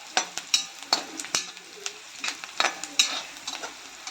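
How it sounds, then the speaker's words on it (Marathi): Onion frying in a pan for a drumstick-leaf vegetable dish, with a steady close sizzle broken by frequent sharp scrapes and taps of a stirring spoon, no voices. "आपला कांदा चांगला लाल होतोय"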